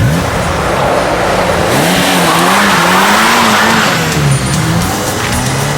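Loud car engine revving hard as the vehicle speeds away, with a rising and wavering engine note, some tire noise, and a dense steady roar throughout.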